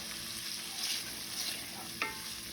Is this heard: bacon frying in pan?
yes